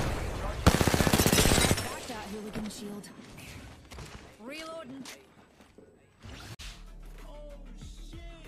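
Valorant gunfire erupts in a loud rapid burst of automatic shots, followed by scattered thumps, footsteps and game effects while a player talks over the action.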